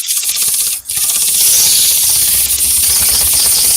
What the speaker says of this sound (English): You're getting too high with the sandpaper again, Jay.